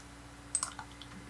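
A few quick, faint clicks from a computer mouse during 3D modelling work, sounding as a tight pair followed by scattered lighter taps over a low, steady background hum.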